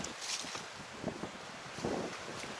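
Strong wind buffets close by above the treeline on a mountain hike up Little Mt Peel, a broad rushing roar with uneven gusts and brief louder swells.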